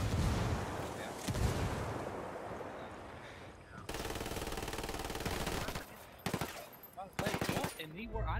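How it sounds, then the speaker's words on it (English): Submachine-gun fire from a Vector in a shooting video game, loud and sustained bursts of rapid shots with heavy gunfire and explosive rumble throughout, breaking into short separate bursts toward the end. "I just emptied a whole magazine of Vector ammo on this guy"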